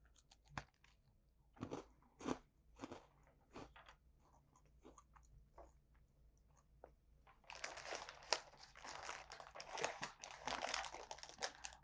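Crisp, sharp crunches come from biting and chewing a pretzel-flavored cookie topped with salt and chocolate cream, first as separate bites, then as a dense, continuous crackle near the end, up close with no talking.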